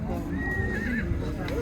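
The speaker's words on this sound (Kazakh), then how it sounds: "Айғырлар бар екен маяқта." Stallions neigh at a Karakol livestock market, a loud whinny rising over steady crowd chatter with hooves clip-clopping nearby and people talking throughout.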